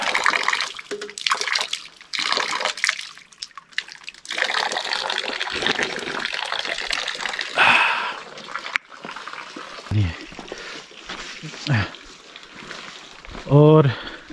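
Drinking water runs and trickles from a tap at Chitray Monastery, splashing steadily under people's voices with occasional louder splatters.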